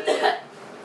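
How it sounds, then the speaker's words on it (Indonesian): A sick young woman gives a short cough in two quick bursts, close and fairly loud, fading into quiet room tone. "dia lagi sakit, lagi batuk, sakit batuk"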